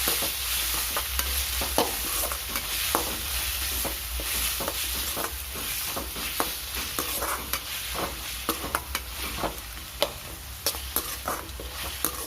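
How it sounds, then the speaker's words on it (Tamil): Onions fry in a pan for capsicum thokku until golden, with a continuous sizzle broken by frequent close scraping stirs of a spoon that grow sharper toward the end. "வெங்காயம் நல்லா பொன்னிறமாக வறுபடட்டும்"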